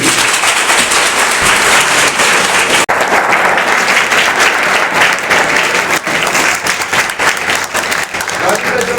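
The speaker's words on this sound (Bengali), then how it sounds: "সবার জন্য হাততালি দাও প্লিজ" Audience applause at an event for a government ITI institute in Ranibandh, Bankura: loud, sustained clapping from a crowd filling the whole stretch, close and dense, with voices faintly mixed in.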